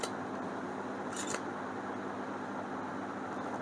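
Camera shutter click while photographing rice grains close-up for macro photography; a brief double click stands out near the middle over steady background hiss, with no talking.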